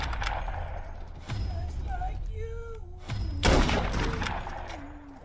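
Gunfire bursts in a video game, with several sharp shots and a heavier volley near the end, mixed with game effects and speech.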